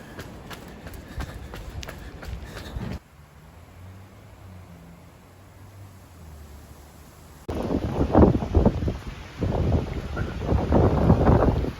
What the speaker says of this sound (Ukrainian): Сьогодні дуже холодно неймовірний вітер мене прям здуває